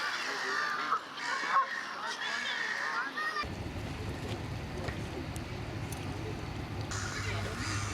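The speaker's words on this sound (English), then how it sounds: "The area around the pier is always full of birds such as swans, ducks, Canada geese and even seagulls." Canada geese honk loudly and repeatedly in the first few seconds at a lake pier, then a low boat engine rumble and background chatter take over.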